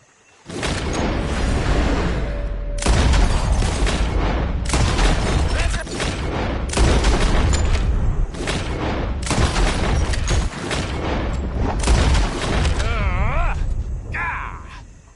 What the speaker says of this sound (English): Whoever shoots the most bottles wins